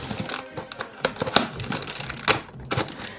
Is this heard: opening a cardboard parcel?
yes